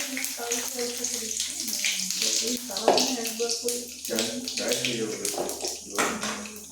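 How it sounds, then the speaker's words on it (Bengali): Potatoes being washed by hand under running water for a home vegetarian recipe, a steady splashing and trickling that runs throughout, mixed with a tonal voice or music. "আর এই যে আমি আলুগুলো ভালো করে পরিষ্কার করে নিচ্ছি"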